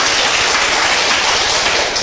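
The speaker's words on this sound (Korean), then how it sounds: "이럴 때 박수도 치셔도 돼요." Applause from an audience at a business presentation on a GMP-certified food company, a dense, steady wash of clapping that stays loud and even for about two seconds with no voices over it.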